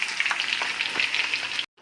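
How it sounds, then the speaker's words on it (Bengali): Long-cut potatoes fry in oil with a cumin tempering, giving a close, steady crackling sizzle with small pops. It cuts off abruptly after about a second and a half. "জিরে ফোড়ন দিয়ে এখন ভাজছি"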